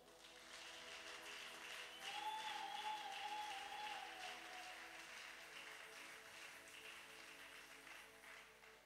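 A church congregation at a retreat applauds to acclaim the Lord, a sustained wash of clapping from a crowd lasting several seconds, moderately loud and steady before easing off.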